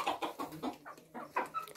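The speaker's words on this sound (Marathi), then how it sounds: "हे सगळे हे कोंबड्या इथे असतात घरच्या." Hens kept at a village home in the Konkan region cluck in a quick series of short, close calls, with brief pauses between bursts and no talking over them.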